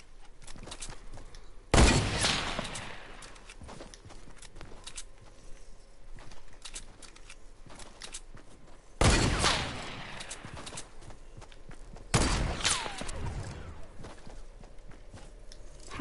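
Gunfire in the video game Fortnite comes as three loud, sharp blasts spaced several seconds apart, each trailing off, with faint footsteps and light game noise in between.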